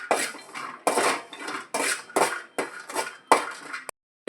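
Fried chicken pieces set onto a plate in a home kitchen, a series of distinct clinks and clatters of utensil against dishware in uneven bursts, then a brief silence near the end.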